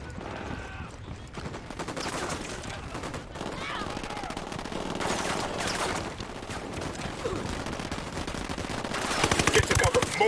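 Sustained gunfire from an open-world tactical shooter set among cartel fighters: dense automatic bursts and single shots rattle throughout, growing heavier toward the end, with voices in the background.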